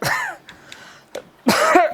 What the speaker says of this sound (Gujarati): અરે આટલા બધી ઉધરસ કેમ ખાવ છો?